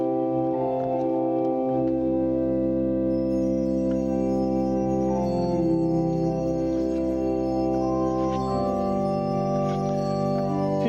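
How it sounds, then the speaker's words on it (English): Pipe organ chords held under a Zimbelstern, a motor-driven star wheel ringing small bells, which add faint, scattered tinkling over the sustained organ tones, with no voices. "It's called a Zimbelstern in German, which means bell star."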